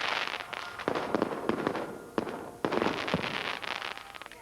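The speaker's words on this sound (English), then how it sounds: "crowds gathered at the castle for fireworks and the lighting of the beacon" Fireworks at Southsea Castle crackle and bang in rapid, irregular bursts, a dense run of sharp pops and booms heard at a moderate distance with no talking.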